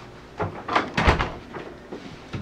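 A door shut in an FBI interview room: one solid low thud midway, with a few softer knocks and rustles around it, fairly close and without talk.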